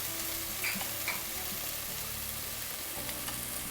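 Shrimp frying in a pan for an Ecuadorian dish, giving a steady, fairly quiet sizzle with a few faint clicks of stirring throughout, and no voices.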